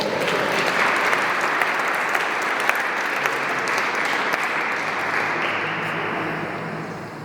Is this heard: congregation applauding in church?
yes